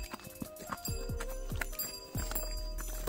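A horse's hooves clip-clopping up a Himalayan mountain trail, several close, heavy, uneven steps with a faint whinny-like tone behind them.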